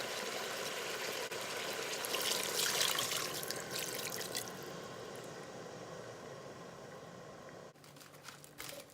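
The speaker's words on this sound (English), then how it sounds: "So I'm going to go ahead and add 2 cups of water." Two cups of water pour into a cooking pot of pork carnitas, a steady close splashing that fades toward the end, with no talk.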